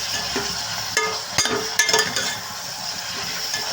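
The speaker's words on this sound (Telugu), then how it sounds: "ఈ టమాటాలు కూడా ఫ్రై చేసేసుకోవాలి." Tomatoes frying in a pan for kaju paneer give a steady sizzle with stirring scrapes and a few clinks of a utensil against the pan, close and continuous.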